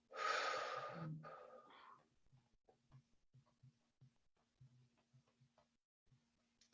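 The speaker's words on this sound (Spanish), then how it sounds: "La respiración de oler las flores" Child's breathing exercise of smelling flowers and blowing out candles: one strong, drawn-out breath at the start, followed by short, soft puffs and sniffs repeated in an irregular rhythm.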